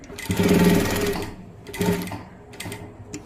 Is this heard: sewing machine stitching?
yes